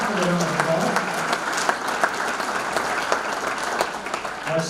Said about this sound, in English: Please give all the good folks at E.L. Crawford a round of applause.